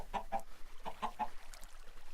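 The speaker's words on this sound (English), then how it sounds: "I have a ton of chickens in here to give me more eggs" Chickens in the video game Agrarian Skies clucking in a run of short, quick bursts, several close together and then more scattered, at moderate level with no talk over them.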